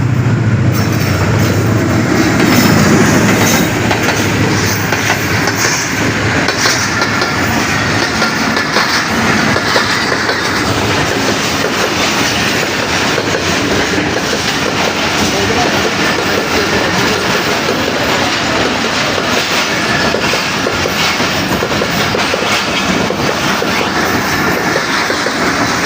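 A train passes a closed railway crossing in the countryside near Gojra, a loud, close, continuous rumble and clatter of wagons that carries on steadily for the whole stretch without any talk.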